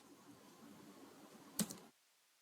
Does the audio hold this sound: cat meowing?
no